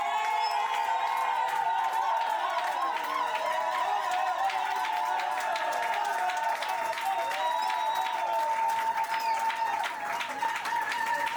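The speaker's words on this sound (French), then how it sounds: "Let's applaud Un jeune, le pasteur de jeunes de cette église." A church congregation at an ordination service applauds a youth pastor, with loud sustained clapping and cheering from a large crowd, whoops and voices mixed in throughout.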